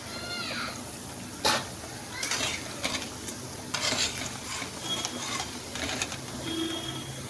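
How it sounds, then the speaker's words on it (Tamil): Masala vadai frying in oil, a continuous moderate bubbling sizzle with occasional clinks and scrapes of a utensil, heard close with a voice speaking softly at times. "இப்போ இதே மாதிரி எல்லாத்தையும் சுட்டு எடுத்துடலாம்."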